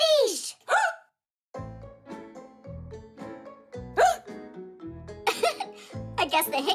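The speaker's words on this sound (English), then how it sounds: "I guess the hiccups are contagious." A cartoon character hiccups in The Fixies, sharp, abrupt gulps that come one after another and mix with short bursts of childlike speech and squeaky vocal sounds.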